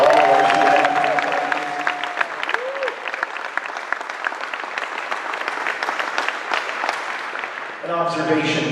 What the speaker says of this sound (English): how about one more big round of applause for all of our students?